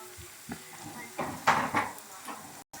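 Onions fry in a pan for plov, giving a soft sizzle broken by a few clinks and scrapes of utensil against cookware, with a brief dropout near the end.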